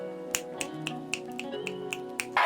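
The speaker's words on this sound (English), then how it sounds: "we're gonna have to give this one 2 snaps up in a circle" A run of about eight crisp finger snaps in a steady, even rhythm, close and fairly quiet, ending in a short burst of noise.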